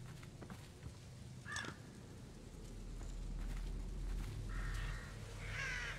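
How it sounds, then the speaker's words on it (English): Crows in The Evil Within horror game give a few scattered caws, one near the middle and a couple of harsher calls toward the end, over a low droning ambient background with faint patter. "Fucking birds."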